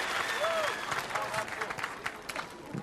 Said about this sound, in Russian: Мы встречаем аплодисментами Андрея Малахова и Машу Распутину